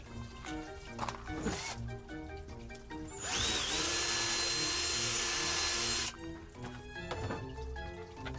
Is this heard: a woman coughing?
no